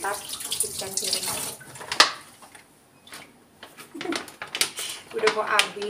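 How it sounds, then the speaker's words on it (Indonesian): Running water at a kitchen sink while dishes are washed, splashing and clinking on and off under a woman's chatter nearby. "Tak cuci sebentar, cucian piring."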